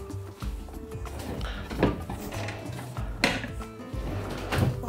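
A small frying pan is picked up in a home kitchen while beef and green bean soup is being made, with several hard knocks and metallic clanks of cookware close by.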